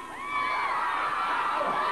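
A huge crowd of young fans screaming and cheering, a dense high-pitched roar that swells in the first moments and then holds steady and loud.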